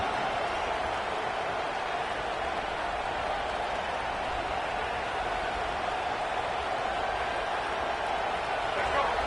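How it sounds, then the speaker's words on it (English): A football stadium crowd roars loudly, a dense and unbroken wash of cheering that stays at full volume throughout, with a voice speaking over it. "This crowd, full throat, splitting the eardrums and letting them know it's going to be a long day."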